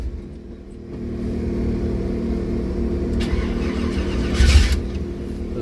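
An older car engine at a swap meet catches and fires up, settling into a rough, close idle with a brief louder rev near the end.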